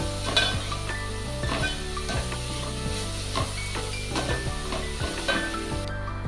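Freshly grated coconut, colored with beetroot, sizzles as it roasts in a pan, a steady crackling hiss punctuated by regular scraping stirs of a spatula, close and moderately loud.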